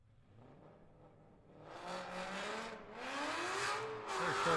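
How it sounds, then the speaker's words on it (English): A drift car engine at a Great Lakes ProAm qualifying run revs hard, its pitch climbing in rising sweeps. It sounds moderately distant with a faint squeal of tires near the end. "Very sharp looking car. Thing sounds good too."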